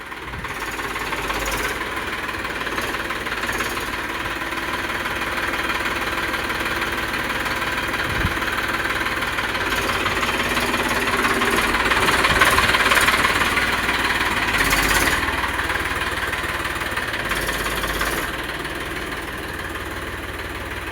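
A farm tractor engine runs steadily outdoors, a continuous loud droning rumble with a slight rise in intensity midway, and no talking over it.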